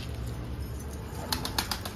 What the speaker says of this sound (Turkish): Zaten yavaş yavaş çıkartacağım kuşları gönderiyorum.